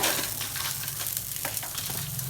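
Garlic cloves and dried red chillies sauté in a pan, giving a loud, constant sizzle and fry with faint scraping as they are stirred, heard close up and alone.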